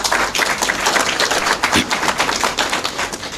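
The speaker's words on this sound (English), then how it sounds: "They deserve a round of applause." Round of applause at a signing ceremony for a hospital reconstruction project, loud dense clapping from a crowd sustained throughout.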